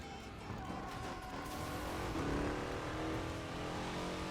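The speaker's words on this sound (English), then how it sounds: "This car sounds great." A car engine drones and revs in the Burnout Paradise racing game, with a sustained, fairly quiet motor tone that rises toward the middle as the car accelerates. Tires may squeal briefly.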